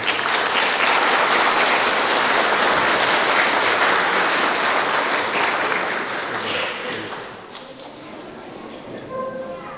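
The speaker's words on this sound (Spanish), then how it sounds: "Un fuerte voto de aplausos por ellos." A church congregation applauding steadily during an Easter baptism service, dense clapping that fades out toward the end, followed by a few faint scattered sounds.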